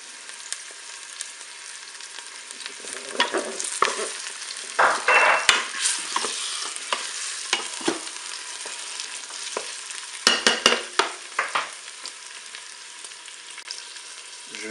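A garlic clove sizzles in a Cookeo multicooker pot, with frying crackle and stirring scrapes swelling in bursts, loudest in the middle and again near the end.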